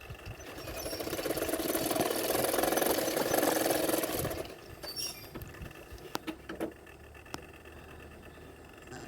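A sewing machine stitches a blouse hook strip in a quick, dense whirring run of about four seconds, followed by quieter scattered clicks and fabric handling.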